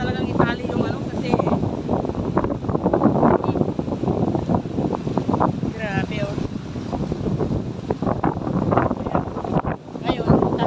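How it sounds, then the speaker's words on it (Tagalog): Strong wind gusting across a rocky coast, roaring and buffeting the microphone continuously while someone speaks briefly over it. "Ang lakas ng hangin."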